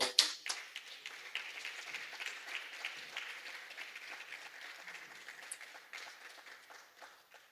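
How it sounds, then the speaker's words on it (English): Sustained round of applause from an audience at a regional top award ceremony for winner Patrina Hall, steady dense clapping at a moderate distance, gradually tapering, with no voices over it. "we thank you for giving that round of applause for Patrina Hall"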